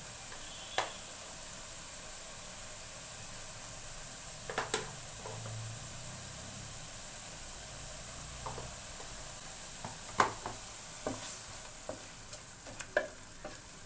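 Onion paste frying in a pan for a capsicum, potato and meal maker curry, a low steady sizzle broken by scattered sharp spoon clicks and scrapes, no voices.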